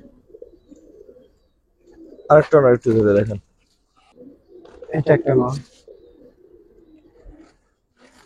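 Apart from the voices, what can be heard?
old-breed pigeons cooing while handled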